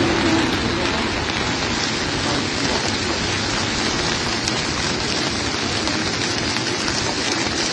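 A heavy downpour pounds surfaces during flood cleanup work, a dense, steady hiss of rain that stays loud and unbroken throughout.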